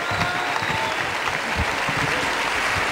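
Steady crowd applause at an Imola political rally welcomes comedian Flavio Oreglio to the stage, a thick continuous patter of many hands filling the hall for a few seconds without pause.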